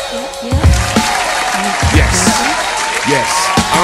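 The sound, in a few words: studio crew clapping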